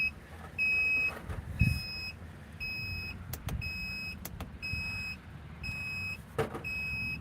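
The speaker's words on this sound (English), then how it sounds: "System alarms." Solar generator inverter system alarm, a repeating high-pitched electronic beep in regular pulses of about half a second, sounding over a low background rumble and occasional clicks.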